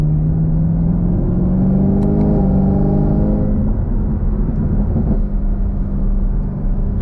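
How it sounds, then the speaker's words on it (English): A 2022 Chevrolet Camaro ZL1 accelerates hard in sport mode with its exhaust valves open, its engine note climbing as a loud, close, continuous roar, with a couple of sharp pops from the exhaust, and no talking. "In sport mode, you get these backfires because the exhaust is, like, the valves are opened up, so it backfires a bit"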